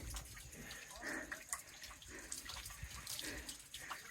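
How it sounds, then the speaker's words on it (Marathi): Cold water seeping through rock and dripping at a mountain spring on the trail between Raireshwar and Mahabaleshwar makes a continuous close trickle with scattered splashy drips. "कातळात झिरपणारं पाणी"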